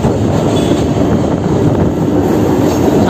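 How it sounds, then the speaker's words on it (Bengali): A Kolkata Circular Rail local train runs along steadily, a loud continuous rumble of wheels and carriages with rail noise throughout and no talking. "মাঝখান দিয়ে এই ট্রেন যাতায়াত করছে"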